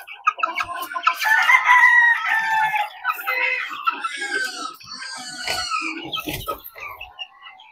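Chickens and young chicks a little over two months old cluck and chatter in a backyard coop, with a rooster crowing among them; steady, busy, close-up flock noise throughout.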